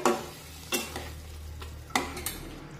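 Semolina sheera being stirred with milk in a pan over a low gas flame, a spoon scraping and sloshing in a few distinct strokes over a soft sizzle, close up with no talking.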